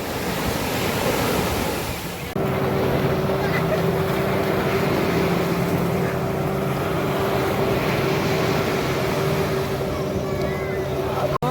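A boat engine drones at Sivrajpur beach near Dwarka, steady and loud under wind and surf noise. A constant motor tone sets in after a brief jolt and continues throughout.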